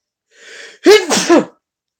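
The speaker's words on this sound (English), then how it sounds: "I apologize if I keep sneezing" A single close sneeze: a short breathy intake, then a sharp, loud burst of voice.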